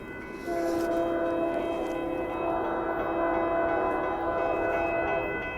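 A northbound Union Pacific auto train sounds its horn as it passes, a loud sustained multi-tone blast over the steady rumble of rolling cars.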